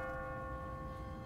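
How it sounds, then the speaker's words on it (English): An automatic church bell in The Walking Dead Telltale game rings out with a steady, sustained metallic tone that hums evenly throughout over a quiet background. "What kind of church bell goes off at 20 past the hour?"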